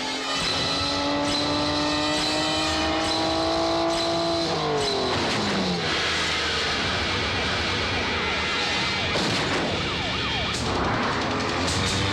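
A car races at speed during a movie chase with police in pursuit, an engine roar under wailing sirens that rise and fall, loud and continuous throughout.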